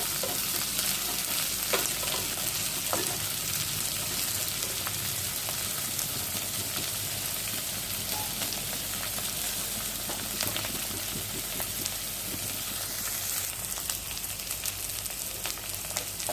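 Pointed gourd and onion fry steadily in hot oil in a pan, a dense continuous sizzle with occasional faint stirring clicks and no talking.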